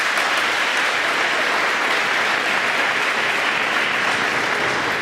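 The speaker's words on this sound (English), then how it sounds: "So if we can just give an applause for each one of them." An audience at a school awards assembly applauding the cum laude members being recognized, dense, steady clapping from a large crowd that holds at an even level throughout.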